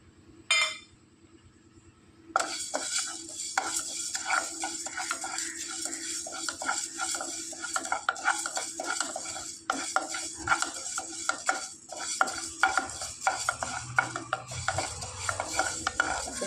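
Green gram is dry-roasted in a hot pan and stirred continuously with a spatula, giving close, steady scraping and rattling with light clinks and a faint sizzle.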